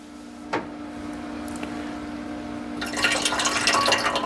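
Pre-melted butter is poured into the pan of a Vevor bread maker: a small clack, then a soft, close liquid trickle that swells near the end, with no talking.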